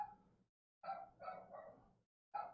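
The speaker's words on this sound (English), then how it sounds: "the dog wanted to go out so they could bark" A dog in the video game Indigo Prophecy barks in several short, fairly loud bursts, each separated by a brief silent gap.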